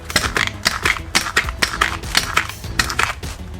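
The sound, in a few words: balloon squeaking as a bubble is squeezed firmly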